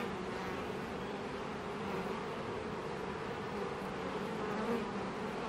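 Honeybees drone steadily around an opened hive with a brood frame lifted out, a dense continuous buzz from many insects close by, even in level with no pauses and no talk.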